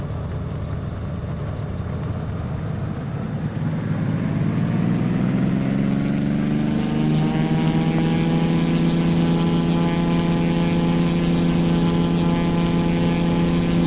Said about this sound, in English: we're going to go to full throttle and start takeoff run